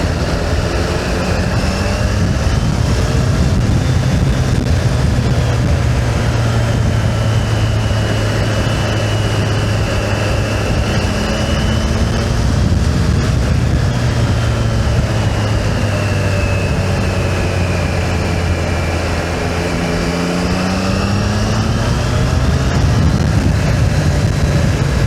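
A Triumph Tiger 660 on its stock exhaust rides through woods, the engine loud and close, rising and falling in pitch through repeated gear changes and throttle swells with no talking.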